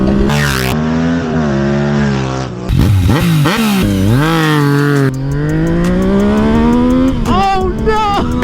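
A motorcycle engine is loud and close as the throttle is opened hard, rising and falling in pitch through several revs and gear changes, with a brief dip before it climbs again.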